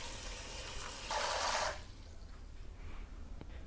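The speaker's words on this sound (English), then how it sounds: "Fill it up with water." Tap water runs into a pot in a kitchen, a brief hissing gush that swells for a moment, then cuts off and leaves only faint drips and quiet handling sounds.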